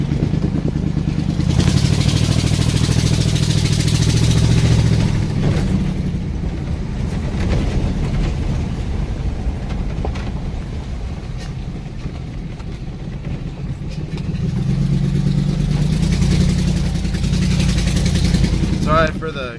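A mud truck engine rumbles and revs loud and close, surging at the start and again near the end with a steadier idle-like running between, with wind buffeting and rattling over it.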